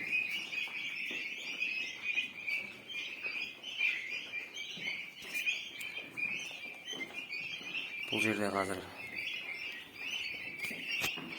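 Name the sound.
turkey chicks chirping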